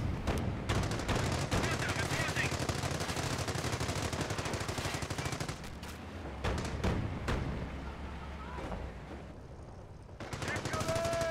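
A machine gun nest in Company of Heroes fires long, dense, rapid bursts, loud and almost continuous, with brief lulls before the firing resumes.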